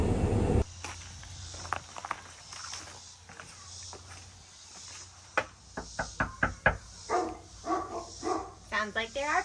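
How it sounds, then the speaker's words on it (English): Puppies bark on a family's rural land in several short, sharp bursts that gather toward the end, with footsteps and insects in the background and people talking nearby. "Sounds like there are puppies."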